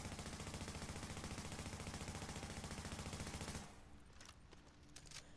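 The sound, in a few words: gunfire hitting enemies in The Division video game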